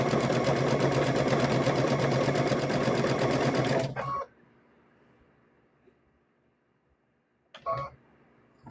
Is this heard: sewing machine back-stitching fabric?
yes